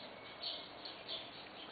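Faint bird chirps, a few short high tweets at a distance over soft outdoor background noise.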